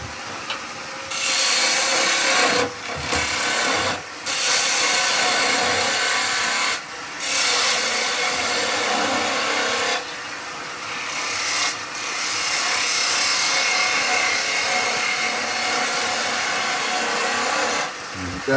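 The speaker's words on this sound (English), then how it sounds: "So I'll rough out with the bow gouge." A bowl gouge roughs out a wooden blank spinning on a lathe, loud continuous rasping cuts broken by brief pauses, with someone speaking at times.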